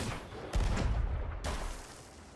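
Gunfire in the pirate game Sea of Thieves, two heavy booming shots with rumbling low tails about a second apart, over steady background game noise and no talk.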